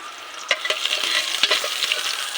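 Vegetables with garlic sautéing and being stirred in a pan, a steady close sizzle and fry with several sharp scrape and clink accents from the spatula against the pan, no talking.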